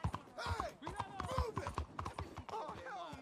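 Horse hooves clip-clop steadily beneath someone talking throughout, as a horse is ridden in the Red Dead Redemption 2 video game.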